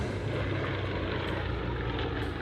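Airplanes fly a formation demonstration at the 2024 Bagotville air show, a loud, steady engine roar filling the whole stretch without any talk.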